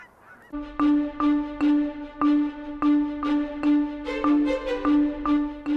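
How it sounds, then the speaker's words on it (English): A greylag goose living in a city park honks loudly and close, about ten repeated nasal calls in a steady rhythm, alone with no voices. "There's a second gray lag goose that lives in City Park, also safe."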